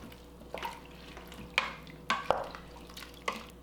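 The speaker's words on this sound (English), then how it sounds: "we want to give it a good stir" A utensil stirs thick white bean chili in a pot, giving a handful of distinct scraping knocks and clinks at irregular intervals over a soft background.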